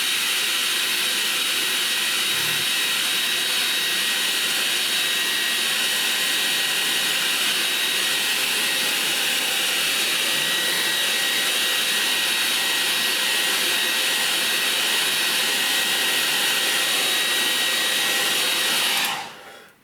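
A hair dryer blows steadily and loudly on wet watercolour paint, a constant close-up whooshing roar with a high whine that runs almost unbroken before switching off at the very end; no talking.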